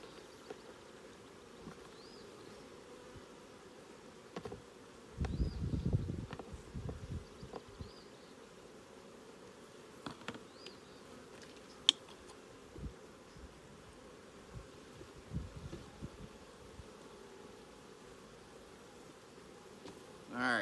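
Honey bees buzzing faintly and steadily while being dumped into an alcohol wash jar for a varroa mite check, with short louder rustling bursts as the bees and container are handled.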